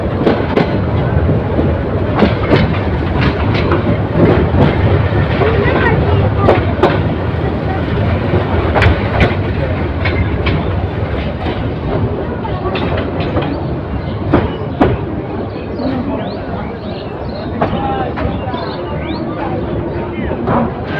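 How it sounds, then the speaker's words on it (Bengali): Bolaka Commuter train pulling into platform 2 at Gafargaon railway station, heard as a loud, steady rumble with rhythmic clickety-clack of wheels over rail joints and sharp metallic clanks, with faint voices in the background. "গফরগাঁও রেল স্টেশনের 2 নম্বর প্ল্যাটফর্মে প্রবেশ করছে ট্রেনটি"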